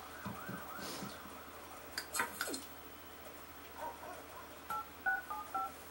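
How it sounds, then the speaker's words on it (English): A short run of touch-tone dialing beeps from a phone in The Sims 3: Pets, a quick series of clear tones in a quiet scene with no talking. "We'll phone Philip."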